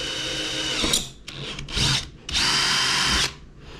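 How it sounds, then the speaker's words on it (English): A power drill whirs in several close, loud bursts as it drills a hole straight down into a fishing net handle, revving up and cutting out between pulls, with a longer steady run at the end. "we're going to drill our first hole straight down"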